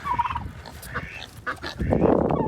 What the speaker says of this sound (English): And there's our turkeys.